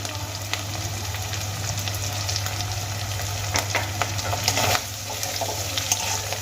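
Chopped green chilies fry with ginger and onion in oil for a fish head curry, giving a steady close sizzle broken by occasional scraping stirs, with no voices.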